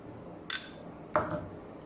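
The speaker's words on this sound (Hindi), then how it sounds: "और इसी में डालेंगे अदरक और लहसुन का पेस्ट" A biryani pot gets yogurt and ginger-garlic paste: two short clinks of a spoon against the vessel, the second sharper and louder, each with a brief ringing tail, over a quiet kitchen background.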